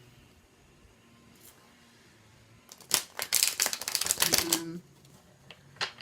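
Tarot cards are shuffled in a brisk burst of crisp riffling and flicking, close and fairly loud after a quiet start, with a short spoken word and a few light taps at the end.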